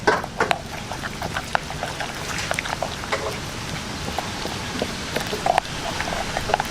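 Water trickles in small pours into a bowl of breading mix for pork chops, a steady splattering patter broken by occasional louder drips and clinks, close by with no talk.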